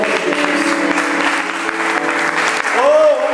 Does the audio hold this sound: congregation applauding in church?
yes